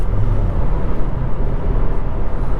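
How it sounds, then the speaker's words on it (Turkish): A Hyundai i20 N drones at speed with a steady, loud low engine and exhaust rumble mixed with road and wind noise, continuous throughout with no talking. "egzoza bak egzoza ses"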